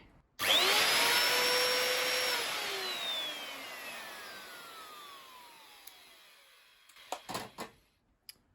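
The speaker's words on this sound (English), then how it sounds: "So that motor sounds fine to me." A Henry HVR200 vacuum cleaner motor, tested directly on power, whirs up sharply to a high whine, then slowly winds down and fades, followed by a few faint clicks and knocks.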